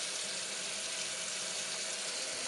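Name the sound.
cold water running from new kitchen faucet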